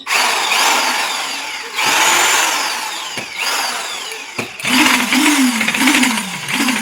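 A new electric concrete vibrator machine, freshly unboxed and wired to a board, runs with a loud continuous motor whine that wavers and shifts in pitch through several surges. No one speaks.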